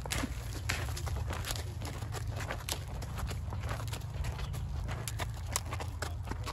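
Steady clip-clop of horse hooves walking at an even pace, close by, with a low rumble underneath.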